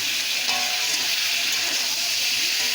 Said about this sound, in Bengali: আলুটা এখন আমি ভেজে নিয়েছি একটু পেঁয়াজের সঙ্গে ভালো করে, আর এখন দিয়ে দেবো এই যে কেটে রাখা ডেমড়ে কলা বা বিচি কলা